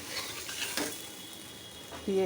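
Fish sizzles and fries in a pan with sour yogurt, a steady close crackle with occasional stirring scrapes.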